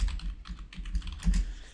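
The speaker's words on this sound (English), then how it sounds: "I'm going to type in wedding speeches" Typing on a computer keyboard, a quick run of close, light key clicks in an irregular rhythm with no talking.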